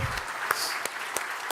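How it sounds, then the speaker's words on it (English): An awards-ceremony audience applauds, a fairly quiet, steady patter of many hands clapping with a few sharper individual claps standing out, heard alone without speech. "I think we should give a big round of applause to the secretariat team."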